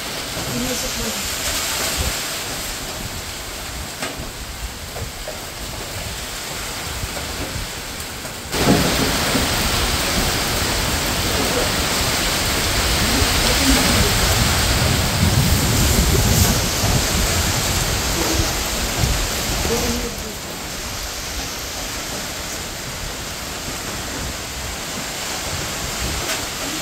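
Heavy rain and gusting wind during Typhoon Uwan, a steady loud wash that swells sharply and stays intense for several seconds before easing back, with no voices.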